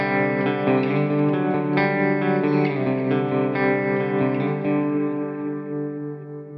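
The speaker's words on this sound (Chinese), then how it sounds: "这款免费的平板混响非常好听" Sustained harmonic chords pass through the free Black Rooster Audio RO-GOLD plate reverb plugin, modeled on an EMT gold-foil plate, giving a bright, lush wash that lingers and slowly decays at the end.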